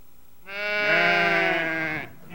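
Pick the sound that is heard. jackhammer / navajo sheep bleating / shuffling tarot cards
navajo sheep bleating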